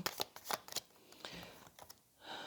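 Tarot cards being shuffled by hand, a run of quick riffling bursts and soft slaps close by, pausing briefly before a final longer shuffle.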